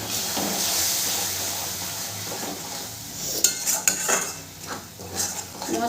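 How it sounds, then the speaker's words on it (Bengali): Thick masala paste for a soybean and potato curry is stirred and fried in a pan, with a steady hiss of frying under scraping and clinking spoon strokes that grow louder and more frequent toward the end. "মশলাটাকে ভালো করে আমি কষিয়ে নেব"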